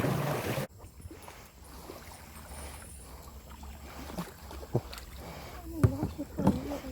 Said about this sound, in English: Danny, you're in the wrong side of the paddle.